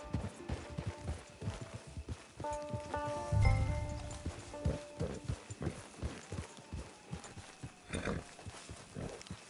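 In Red Dead Redemption 2, a horse walks with a rhythmic clip-clop of hooves, steady and close, under faint game tones and a brief low thud.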